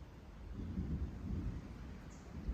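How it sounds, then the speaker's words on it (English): Distant thunder rolls low and faint through a quiet evening on the Appalachian Trail near the Connecticut–Massachusetts border, a soft sustained rumble with no voices. "You hear that thunder?"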